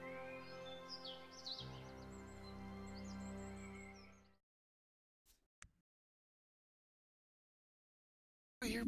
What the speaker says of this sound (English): I hear birds still. Seabirds.